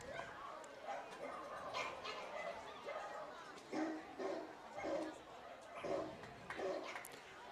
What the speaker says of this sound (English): Does that sound like the Welch household? Dogs barking?